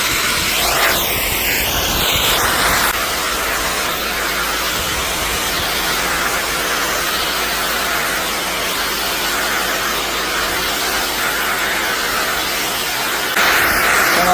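Water spraying in a final rinse across an old, 30-plus-year-old TPO roof: a loud, continuous broadband hiss that stays steady throughout, close by with no talking.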